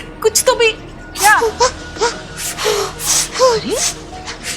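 A young child cries in a string of whimpering, wailing bursts broken by gasping breaths, close and fairly loud over about four seconds.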